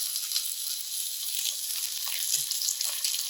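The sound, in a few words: lemon slices sizzling in a frying pan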